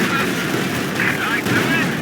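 Gunfire crackles through a battle in Company of Heroes 2, a steady dense rattle of shots and distant artillery thumps running continuously for a couple of seconds over a busy battlefield din.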